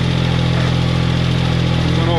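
A farm tractor engine runs steadily while cultivating rows, a loud close mechanical drone with a regular low throb, and someone talks over it.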